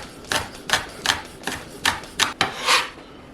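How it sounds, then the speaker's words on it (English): Knife slicing green onions on a cutting board, about seven crisp, evenly paced cuts close up, each a short crunchy chop, with no talking. "One of them is some green onions, and we're just going to slice these up"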